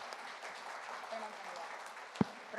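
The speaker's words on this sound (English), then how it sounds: "A warm applause to you." An audience at the TiECon Surat 2022 business event claps, soft and distant, to welcome a guest, with a murmur of voices underneath and one sharp knock partway through.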